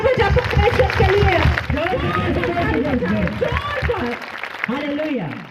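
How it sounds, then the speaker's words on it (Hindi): A church congregation claps loudly together during a healing prayer service, a sustained dense roar of hands with a preacher's voice ringing over it, continuing for several seconds before easing. "इसके कानों को जोरदार ताली बजा परमेश्वर के लिए।"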